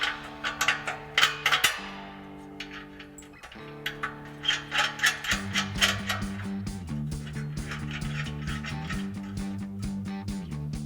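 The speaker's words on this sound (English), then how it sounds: "we'll reinstall our factory bolts" Hand ratchet driving factory bolts back into the exhaust flange of a Toyota Tundra, with close, quick bursts of clicking in uneven runs separated by short pauses.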